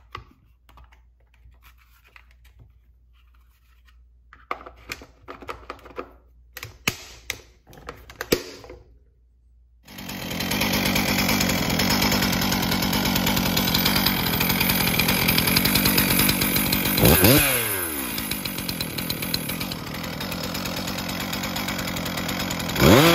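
A Stihl chainsaw with a rebuilt carburetor gets a few rattling pulls and clicks, then fires and runs at a loud, steady high buzz, revving upward near the end, no talk.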